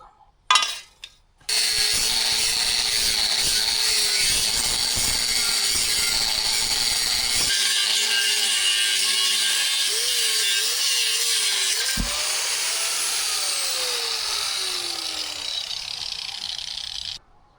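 A power saw cuts steel stock for a welded support leg, a loud, steady high-pitched whine running for many seconds. Pitch shifts as the blade works through the metal and fades at the end.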